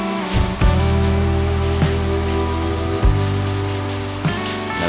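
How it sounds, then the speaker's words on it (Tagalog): Early-morning rain falls steadily on surfaces, a constant wash of patter with a few heavier knocks and drips and a low steady hum underneath. "Aga-aga umuulan."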